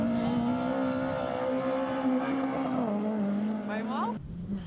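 A BMW rally car roars along a winter rally stage, its engine note holding steady with a small dip in pitch, then climbing through quick rising revs before cutting off abruptly. A voice talks over the engine.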